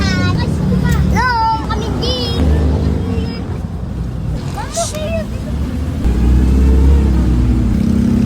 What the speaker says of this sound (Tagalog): Sakay na tayo ng jeep.